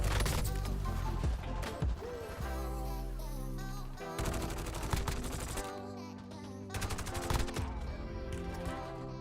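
Dense gunfire from a first-person shooter video game, with repeated rapid bursts and sharp shots layered over music and effects throughout.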